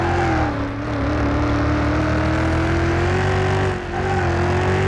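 SRT Viper engine in the racing game Car Mechanic Simulator 2021, droning loud and close at a steady high pitch that sags briefly twice as the throttle eases, with no talking.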